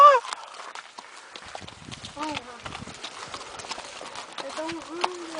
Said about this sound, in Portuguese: Primeira vez andando de cavalo, tá?